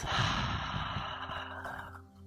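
A long, breathy exhale through the mouth during a yoga session, strongest at the start and fading over about two seconds, near and soft, with a faint low tone sustained underneath.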